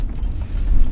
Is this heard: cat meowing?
no